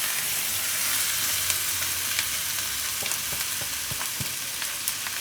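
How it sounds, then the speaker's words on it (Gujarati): Cooked rice tumbled into a hot pan with fenugreek leaves and green peas for methi matar pulao, stirred steadily: a continuous close sizzle with soft scraping clicks of the spoon, no voices. "હવે આમાં ભાત નાખી દઉં આપણે આ બનાવેલા ભાત"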